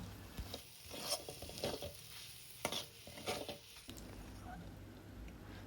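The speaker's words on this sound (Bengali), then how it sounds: "এবার মশলার সাথে টোটালটাকে ভালো করে মিক্সড করে আবার একটু খুব ভালো করে কষে নিচ্ছি" Egg cooked with pointed gourd and spices in a pan on a low flame, a soft continuous sizzle with scraping strokes of a spatula stirring at an uneven rhythm, close and fairly quiet.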